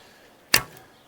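A single sharp snap and whoosh of an arrow released from a Snake recurve bow, loud and close against a quiet background, with a faint tick afterward.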